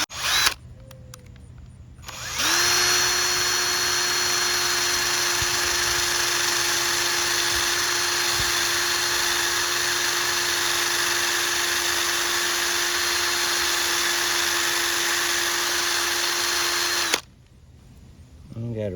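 A power tool spins steadily for about fifteen seconds, buffing rust off a bolt during a 2001-04 Kia Rio belt change, with a loud continuous whine that cuts off near the end.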